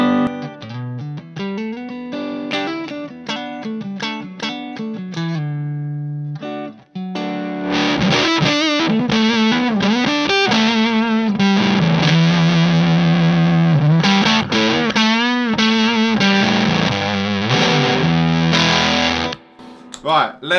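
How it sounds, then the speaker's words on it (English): Electric guitar played through a fuzz pedal, loud and saturated, opening with choppy strummed chords and a brief pause before sustained distorted riffs and held notes that run nearly to the end. "I've got a fuzz here as well, actually, just out of curiosity, if you're wondering about the fuzz."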